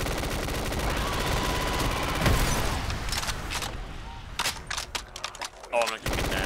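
Rapid machine-gun bursts rattle in a Black Ops 3 custom zombies match on a Pokémon Pallet Town map, with sustained automatic fire giving way to scattered shots, under a player's talk.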